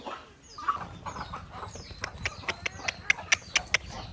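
Chickens, hens with young chicks, cluck and peep around a person scattering rice for them, a series of short sharp calls growing more frequent and closer toward the end, alone without talk.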